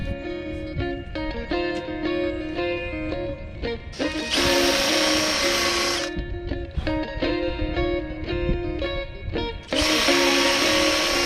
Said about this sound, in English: So take them off, drill some holes